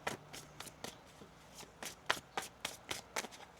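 Tarot cards being riffled and shuffled in quick, crisp bursts, about a dozen rapid flutters in an irregular rhythm, close up with no talking.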